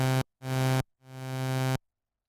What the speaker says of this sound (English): The attack controls the length of time it takes for the signal to reach full volume like this.